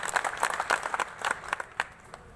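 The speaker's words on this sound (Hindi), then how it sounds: "आप सबके लिए ताली बजाइए।" Audience applause at a Shantikunj Ganga awareness training gathering in Korba, a quiet scattered clapping of moderate size lasting a couple of seconds and fading toward the end.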